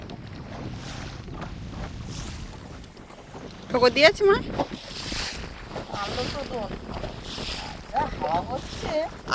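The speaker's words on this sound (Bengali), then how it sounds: "আজকে নদীতে হচ্ছে খুব হাওয়া, তার সাথে ঢেউ।" Strong wind buffets the microphone while waves slosh against a small fishing boat on a river under cloudy skies, with people talking and shouting intermittently over the gusts.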